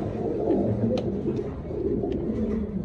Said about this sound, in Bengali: এই যে দেখেন নর ডাকতেছে